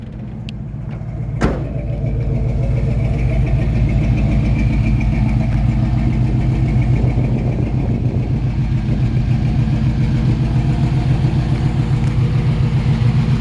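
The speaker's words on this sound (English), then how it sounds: "Smooth running engine." A 1950 Chevrolet 3100 truck engine idling through dual exhaust, a loud, steady, smooth low rumble heard close, with a faint click just before the sound settles into its even throb.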